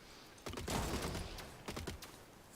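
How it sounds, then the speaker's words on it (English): Machine gun fire from the robot strategy game Gladiabots, a quiet scatter of quick clicking shots in two short clusters, soft and close. "my machine gun did manage to chase the sniper off of the resource"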